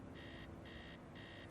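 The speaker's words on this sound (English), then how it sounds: "Somebody's alarm clock, do you reckon?" An alarm clock buzzing somewhere in a house: three evenly spaced electronic beeps, faint and distant over a low steady background rumble.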